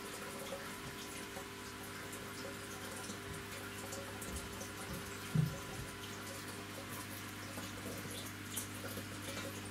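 Water from a filter pump in a red-eared slider turtle tank pours back in with a faint, steady trickle and a low hum underneath, with one brief louder splash.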